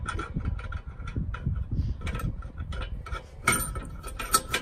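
Nut being threaded onto a bolt while installing a rear trailer hitch receiver on a Dodge Ram, giving close, irregular metallic clicks and ratcheting scrapes, with a brief sharper clatter near the end.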